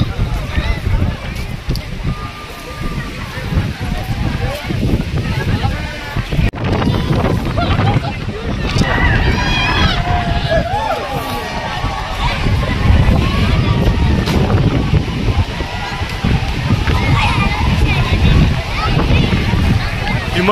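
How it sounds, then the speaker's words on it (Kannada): Cold wind on a hilltop at Himavad Gopalaswamy Betta buffets the microphone in strong, continuous rumbling gusts, while a person talks over it throughout. "ಹಿಮದ ಗಾಳಿ ಹಂಗೆ ಗಾಳಿ ಮುಖಾಂತರ ಬರ್ತಾ ಇದೆ"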